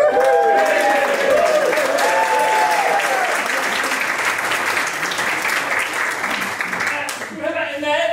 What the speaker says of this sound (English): everyone give you a massive round of applause